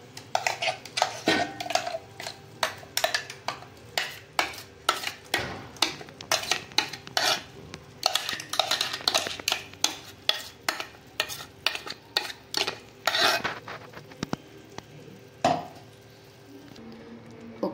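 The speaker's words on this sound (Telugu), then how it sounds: "బాగా మిక్స్ చేసుకోవాలి చికెన్. ఇలా మొత్తం కలిసే వరకు మిక్స్ చేసుకోవాలండి." Country chicken being mixed with masala paste in a pot for biryani, a long run of rhythmic metallic scrapes and clanks from a spoon against the pot, close and steady with brief pauses.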